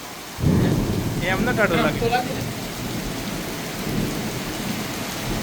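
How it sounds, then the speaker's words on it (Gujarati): Steady heavy summer rain with thunder hisses across the whole clip in Gandhinagar, with a low rumbling undertone, while a voice speaks briefly near the start. "મિત્રો ધોધમાર વરસાદ ચાલુ થઈ ગયો છે જો"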